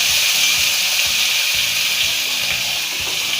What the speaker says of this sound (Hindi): और थोड़ी देर तक फ्राई कर लेंगे जब तक ये सॉफ्ट ना हो जाए